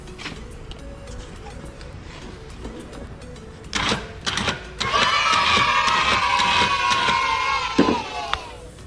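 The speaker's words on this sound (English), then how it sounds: "the winch works" A Warn winch on a Kawasaki Mule Pro FX whirs into action after faint clicks, its electric motor a loud, steady high whine for several seconds before stopping with a clunk.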